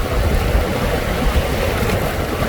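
A fishing boat heads out to sea with its engine running, a steady broadband drone mixed with wind buffeting the microphone and water rushing past the hull, loud and continuous throughout.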